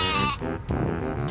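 Sheep bleat in Worms Armageddon, a wavering harmonic cry over the first third, followed by more bleats and game sounds, fairly loud and close throughout.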